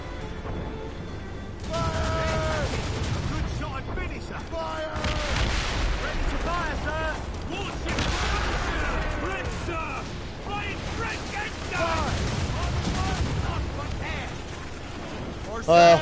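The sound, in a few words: ship mortar fire in video game Assassin's Creed Rogue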